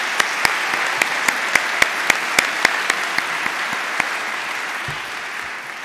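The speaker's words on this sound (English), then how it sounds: "So let's give them a round of applause." Applause from the audience at a college athletic hall of fame induction ceremony: a steady wash of many hands clapping, with sharp individual claps standing out near the front before it fades.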